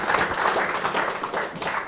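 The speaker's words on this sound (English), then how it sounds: "let's give Michael a round of applause" An audience gives a round of applause for a speaker named Michael at a talk on ICOs and venture capital, a steady wash of clapping lasting the full stretch at moderate volume with no voices over it.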